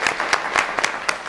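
Applause from an audience, with several sharp bursts of clapping rising and falling over a steady patter, fairly close.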